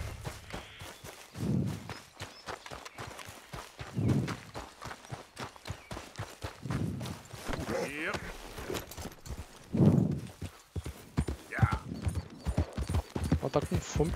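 Horse hooves in Red Dead Redemption 2 clip-clop in a steady trotting rhythm as the horse moves away, with a voice talking over the hoofbeats throughout.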